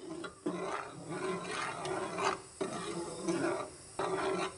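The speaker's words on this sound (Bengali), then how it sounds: "বলক আসার পরে কিন্তু এটা অনবরত নাড়াচাড়া করতে হবে।" Boiling mango puree being stirred in a pan for a milk and mango pudding: repeated rasping scrape strokes in a loose rhythm, each followed by a brief pause, close and moderately loud.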